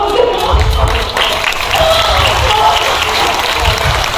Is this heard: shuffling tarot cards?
no